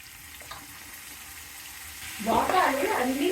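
Cooked mutton pieces for pulao drop into hot fat in a pressure cooker and set off a sudden loud sizzle partway through, after a quiet background hum.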